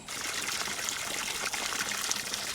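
Water pours from tubing into a bucket on a farm, a loud continuous splashing trickle that stays close and steady with no talking.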